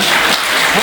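Applause at a city council meeting, a dense, fairly loud wash of clapping from the audience filling the brief moment, with a voice faintly under it.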